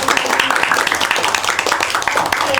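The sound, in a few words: class clapping hands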